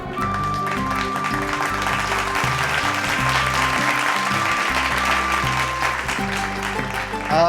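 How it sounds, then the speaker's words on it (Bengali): An audience in a televised stage show claps loudly and steadily for a performer, with music playing underneath the whole time. "রীতাপরির জন্য জোরে হাততালি হয়ে যাক"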